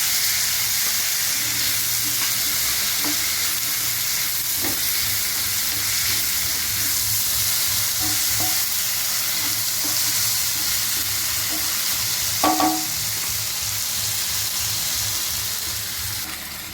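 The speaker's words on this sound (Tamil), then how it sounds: "2 மீடியம் சைஸ் தக்காளி, தக்காளியோடய சேர்த்து சுண்டைக்காயும் போடுறோம்." Tomatoes and turkey berries fry in a pan for a Karaikudi-style pachadi. A loud, continuous sizzle sounds up close, with scattered light scrapes and clinks of stirring.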